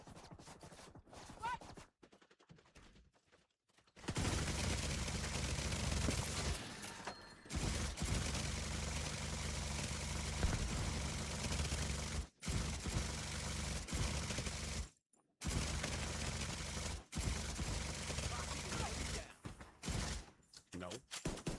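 An automated turret fires rapid bursts in The Division 2, dense and loud, broken by short gaps, while voices talk over the shooting.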